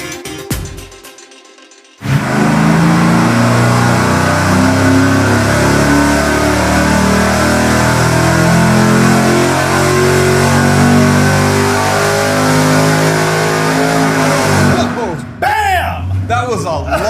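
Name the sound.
supercharged cast piston small block engine revving on dyno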